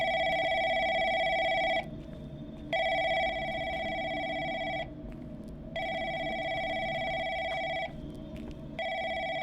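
A desk telephone rings in the call center horror game Lancaster Leak: Crisis at Call Center, a bright electronic trill in long bursts separated by short pauses, repeating steadily with quiet room ambience underneath.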